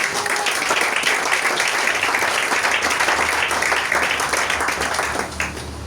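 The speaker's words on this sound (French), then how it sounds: "Est-ce que tu peux acclamer la parole de Dieu?" A church congregation breaks into loud, sustained applause, dense clapping filling the room steadily before tapering slightly at the end.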